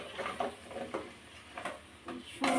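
Beans added to a pan of spices over low heat and stirred, with soft scraping, patter and faint sizzle in several short bursts, close by and fairly quiet, no talking.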